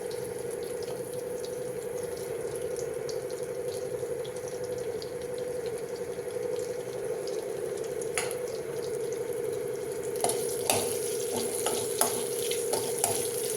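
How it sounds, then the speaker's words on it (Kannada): Onion and green chillies fry in oil, a continuous sizzle and hum punctuated near the end by a cluster of sharp spatula clicks against the pan, with no speech. "ಫಸ್ಟು ಈರುಳ್ಳಿ ಮತ್ತು ಹಸಿಮೆಣಸಿನ್ಕಾಯಿನ ಹಾಕ್ಕೊಂಡು ಫ್ರೈ ಮಾಡ್ಕೋತೀನಿ"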